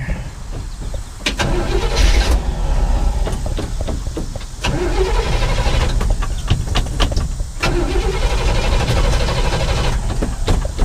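Starter cranking on a 1959 Chevrolet Apache truck engine with the hood up, inside a garage: repeated bursts of loud mechanical churning separated by short pauses, close by and unaccompanied by talk.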